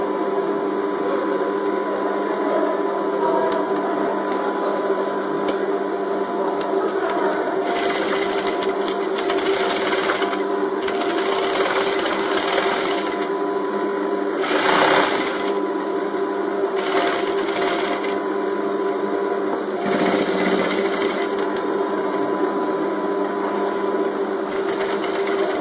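A sewing machine stitches a Moroccan djellaba, running as a steady close mechanical hum for the whole stretch with several brief louder bursts of faster stitching.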